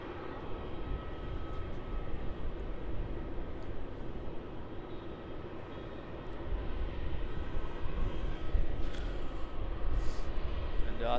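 A Qantas Boeing 737 departing runway 34 at Melbourne Airport, a distant low jet engine roar that grows steadily louder over several seconds under faint background noise.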